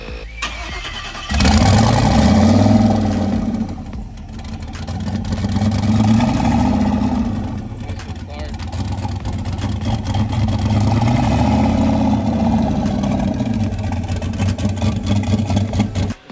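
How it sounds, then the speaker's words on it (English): A 1000HP turbo truck with a 370 stroker V8 starts for the first time in five years. It cranks briefly, catches with a loud, rough roar, then settles into a heavy, uneven idle with revving swells. "Initial start, big 370 stroker build we got going on."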